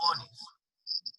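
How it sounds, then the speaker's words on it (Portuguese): A cricket chirps inside a room, giving a few short, high, bright chirps in quick succession after a voice briefly speaks. "Mas, nossa, tem um grilo aí, viu?"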